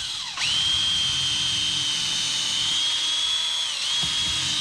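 A cordless drill in drill mode whines up and runs at a steady high pitch for several seconds, boring into wood, dipping briefly near the end, close and loud.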